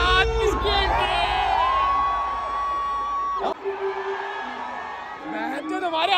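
Dense crowd at a concert shouting and cheering loudly and continuously, with overlapping voices, whoops and children's shouts close by, a brief drop midway before the roar resumes.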